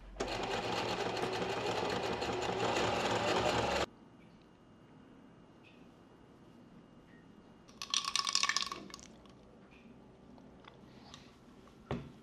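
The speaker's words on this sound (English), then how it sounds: "I'm just going to use the zigzag stitch on my sewing machine" A sewing machine runs a zigzag stitch to close the bottom edge of a fabric top's back flap. It makes a loud, fast burst for several seconds, then goes quiet apart from a brief rattle of handling.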